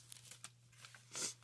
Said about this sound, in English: it's got the plastic inside of it, so it makes a little noise